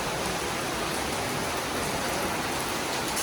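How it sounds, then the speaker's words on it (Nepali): Hail falls together with rain in early summer, likely hitting a tin roof, and makes a dense, steady, fairly quiet hiss of pattering impacts with no pauses and no voices. "अन्त असिना पानी यतातिर रेसिपेक्सीको लागि है असिना यत्रो यत्रो पऱ्यो।"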